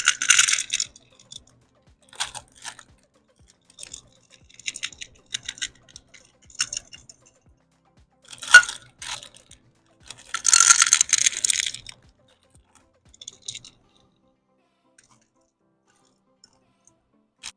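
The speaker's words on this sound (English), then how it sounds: "Time to add our chocolate chips." Chocolate chips scattered by hand onto cookie bar dough for s'mores bars, giving sparse, light clicking and pattering bursts that come in short clusters with quiet gaps between them, with one louder shower near the middle.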